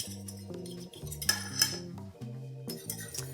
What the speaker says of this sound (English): Into that, I am going to whisk in 3 teaspoons of cornstarch.